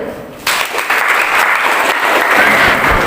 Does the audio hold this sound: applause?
yes